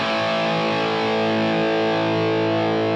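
Heavily distorted electric guitar on its bridge pickup alone, fitted with JC Custom pickups, holds one thick sustained chord steadily and loudly throughout.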